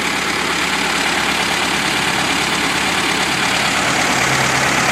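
A VW Bus dual port 1641 engine idles steadily, a loud, close, even rumble that holds constant throughout without talking.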